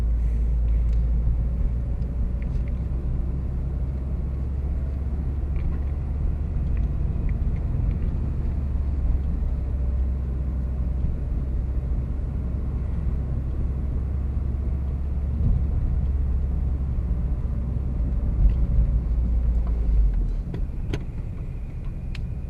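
Interior road noise of a manual car with stiff suspension, a continuous low rumble of engine and tyres with small bumps and rattles over a long steady drive, no talking.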